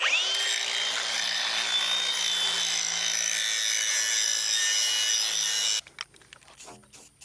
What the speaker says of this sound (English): I like to soften them up with a grinder, round them over.